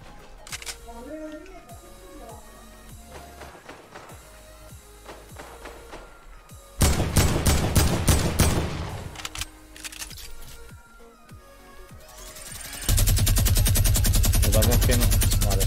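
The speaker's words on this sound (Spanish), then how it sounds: "Me está disparando el otro" Gunfire in the Fortnite battle royale game: loud rapid bursts of shots come in clusters, with keyboard clicks in between and a player talking over the action.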